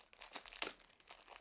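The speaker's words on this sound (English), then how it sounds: "I'm just getting the plastic off so I can show it to you better." Plastic wrapping crinkling and crumpling as it is pulled off a new handbag, in faint, close, irregular rustles with one sharper crackle in the middle.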